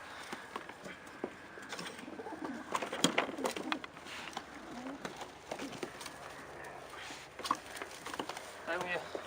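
Racing pigeons coo softly in low, repeated burbling calls, with scattered shuffles and wing flutters nearby and a person talking in the background.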